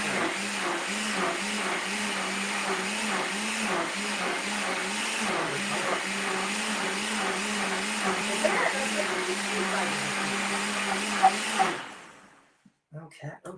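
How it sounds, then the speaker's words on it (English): Blender running on high speed pulverizing ingredients, a loud steady whirring motor with a wavering pitch for about twelve seconds, then it winds down and stops, followed by a few clunks. "I threw the blender on high and pulverized everything"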